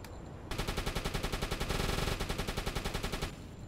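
A 13.2mm Breda machine gun fires in the Uboat submarine video game, a steady rapid burst of evenly spaced shots lasting about three seconds, heard clearly and alone at moderate loudness.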